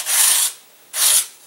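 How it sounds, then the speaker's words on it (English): Two rough, hissy strokes sanding burrs off a carbon horizontal tail of a model glider, each about half a second long and separated by a short pause, close and fairly loud. "start off by sanding off any burrs on it"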